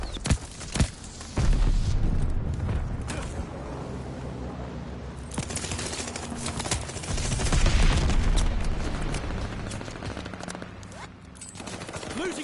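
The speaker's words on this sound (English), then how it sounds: "Friendly bombing run on the way." A bombing run in a video game brings dense, rumbling explosions and bursts of rapid machine-gun fire. The barrage is loud and sustained, with heavier booms swelling midway.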